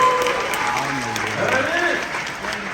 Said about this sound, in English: one more round of applause for our volunteers